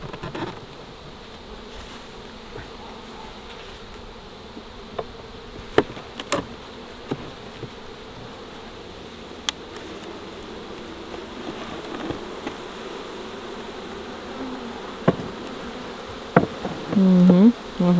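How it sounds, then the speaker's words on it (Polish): Agitated wasps from a beekeeper's apiary set among goats and sheep, buzzing steadily and densely throughout, with occasional sharper close fly-bys rising above the swarm drone and a few small knocks. "Wściekłe osy."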